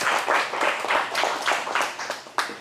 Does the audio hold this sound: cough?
no